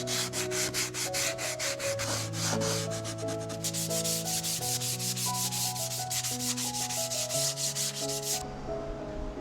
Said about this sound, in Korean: 날카로운 모서리를 샌딩하면 만질 때 훨씬 부드러워집니다.